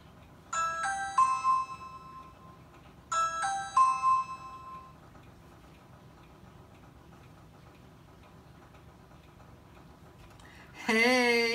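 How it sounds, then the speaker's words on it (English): A bright electronic chime from a Ring video doorbell rings twice in succession, each a descending multi-note tone, followed by quiet room noise and a burst of electronic sound at the end. "Testing your Ring doorbell."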